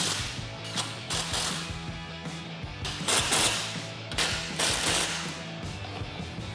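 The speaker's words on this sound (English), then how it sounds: "grab a 13mm socket to tighten these down" A ratchet with a 13mm socket tightens bolts on a Jeep Gladiator JT truck cap, giving rapid clicking bursts in several runs with short pauses, close and fairly loud, no voices.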